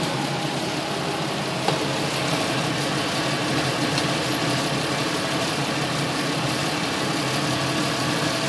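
A 3.1/3.4 liter car engine idles steadily while its coolant system is bled, a constant even drone with a faint rattle, close by, with no talking.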